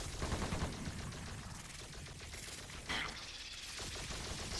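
Gunfire in the video game Earth Defense Force: Insect Armageddon, a steady rattle of rapid shots running through the whole stretch with a sharper burst near the middle, no voices over it.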